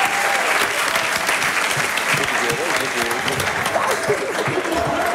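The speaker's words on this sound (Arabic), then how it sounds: "صفقوا علي صفقوا علي" A television studio audience applauds loudly in a steady crowd clapping that fills the whole stretch, with voices and a few calls mixed in beneath it.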